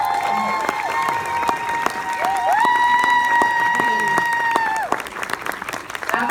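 An audience at a Q&A event for the Netflix series GLOW bursts into sustained applause with some cheering, while a loud voice calls over the clapping. The clapping thins out toward the end.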